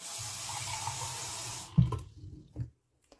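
Tap water running from a kitchen faucet into a small container, a steady rushing stream for about a second and a half that then cuts off, followed by a couple of brief clunks.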